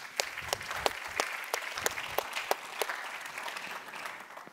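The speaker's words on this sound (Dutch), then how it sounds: "kom maar Jeroen, geef hem een applaus" A room full of people at a live event in Knokke-Heist, Belgium claps steadily, with sharp individual claps standing out from the crowd's continuous applause, fairly close.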